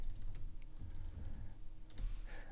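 Quick, irregular clicks of typing on a computer keyboard while signing in on a Windows setup, close and moderately loud, with no speech.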